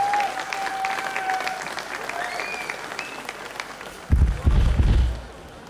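Audience clapping at an outdoor country music festival in Wolsztyn, steady applause mixed with ringing tones and a murmuring crowd, then a burst of heavy thumping near the end before the noise fades.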